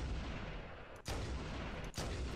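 Two powerful gunshots from a heavy weapon in Halo: Combat Evolved on Legendary difficulty, each a sharp loud blast about a second apart over a dense, steady game background with no voices.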